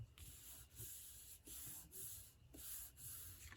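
Paper rubbed by hand to smooth down a glued fold on a handmade seashell column fold card, a close, steady brushing hiss in several long strokes with brief pauses between them.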